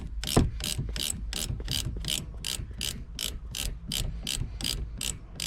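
Ratchet wrench loosening a rear shock absorber nut on a 2015 Toyota Sienna, with the center held by an Allen wrench; a close, steady series of about fifteen evenly spaced metallic clicks.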